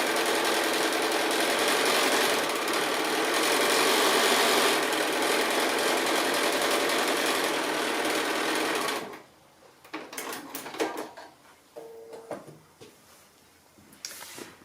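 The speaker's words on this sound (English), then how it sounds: "So now I've got that all stitched either side." A sewing machine stitches either side of bold stripes on a quilt, running in a loud, steady whir for about nine seconds before stopping, followed by quieter, scattered handling sounds.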